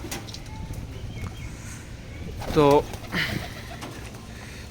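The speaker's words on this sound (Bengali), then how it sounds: "আর এই যে কালো দুইটা কবুতর।" Pigeons coo on a rooftop, and two of them are black; one short, loud burst of cooing rises over steady background noise, followed by a fainter second call, with a brief spoken word nearby.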